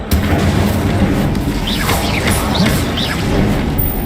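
Incendio fire spell cast during a troll fight in Hogwarts Legacy on PC, a steady roaring blast of flame with bright crackling bursts over dense game sound, loud throughout.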